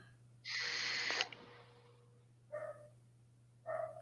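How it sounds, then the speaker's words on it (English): A dog barks outdoors in a few faint, distant bursts, one longer harsh yelp followed by two short barks, over a steady low electrical hum. "I have a dog outside"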